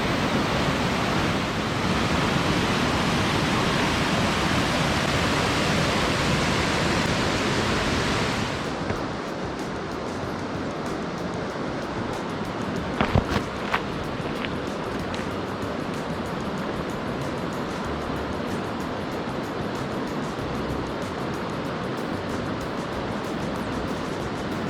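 Broad steady roar of water at High Falls in Algonquin Park, loud and constant, easing slightly partway through as the position shifts, with a few brief knocks near the middle.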